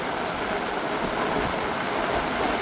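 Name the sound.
wind and rain in a Konkan village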